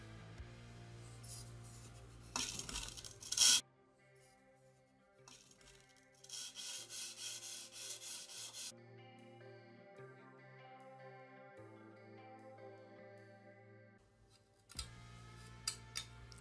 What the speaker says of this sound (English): We will only go with these sharpening stones without a strop and see how it cuts the paper